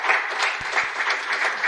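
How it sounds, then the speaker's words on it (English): An audience clapping at a commemorative postage stamp unveiling ceremony, a dense, even round of applause heard clearly and alone. "may we all clap."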